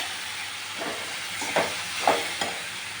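A ridge gourd and prawn masala thokku is stirred in a hot pan, giving a steady close sizzle and frying hiss throughout, broken by three soft scraping strokes of the spoon toward the end, with no talking.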